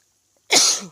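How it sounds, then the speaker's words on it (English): A single sharp, close sneeze bursts out after a moment of silence, then quickly trails off. "Oh, sneeze."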